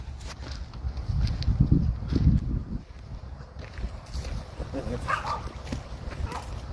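Dogs bark and whimper outdoors, with a few short yips and whines heard beneath steady background noise, fairly distant and mixed with low rumble.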